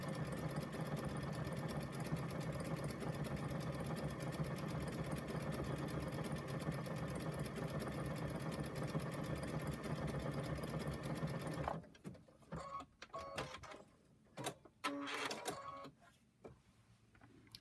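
Sewing machine stitching with a steady, fast mechanical whir and rapid needle chatter for about twelve seconds, then it stops and only a few short intermittent bursts and clicks follow.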